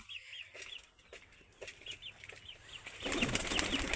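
A hen squawks and clucks loudly before laying an egg in a backyard poultry pen shared with quail and pigeons. Repeated sharp calls carry over steady rustling, with a louder burst of flapping and commotion toward the end.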